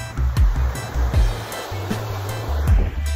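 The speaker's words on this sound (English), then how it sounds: "Man, just listen to that sound of the surf." Ocean surf breaks on a beach close by, with rolling waves and a steady wash of spray. No voices are heard.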